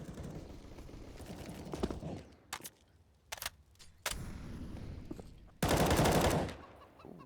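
Rapid gunfire bursts from a CS:GO match on the Inferno map, including wall-bang shots, come in several sharp clusters with brief gaps, the loudest volley near the end, with no talk.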